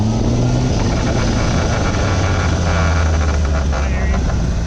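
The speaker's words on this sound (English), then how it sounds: "let me show you when I go by, when you let off the throttle" A Honda CBR600RR sport motorcycle roars by close and loud, its engine note easing off as the throttle is released, buried in heavy rushing wind noise.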